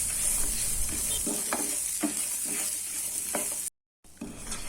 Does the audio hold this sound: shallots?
yes